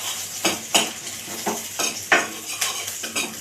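A spoon scrapes and knocks rhythmically against a metal pot as oil is stirred into cooking dal, with a faint sizzle under the steady clinks.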